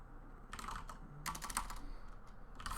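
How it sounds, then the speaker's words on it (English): Keystrokes on a computer keyboard during a coding session, tapped out in quick uneven bursts with short pauses between them, faint and close. "I can't stand the sound of that keyboard"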